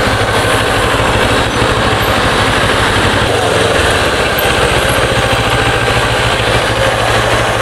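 Motorcycle engine idling loud and close, a steady low throbbing rumble that runs continuously with a slight dip midway, ridden by a Yandex Eda delivery courier in Rostov-on-Don.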